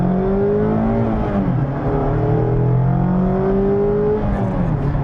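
Engine of a 2022 Mazda Miata MX-5 RF Grand Touring revving up high to 7,000 RPM, a loud, steady, close-up whine climbing and dropping in pitch, heard alone.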